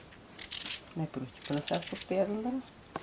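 A knife slices potatoes in a village kitchen while mushroom soup is made at home; crisp, scraping cuts come in short bursts, partly under a person talking.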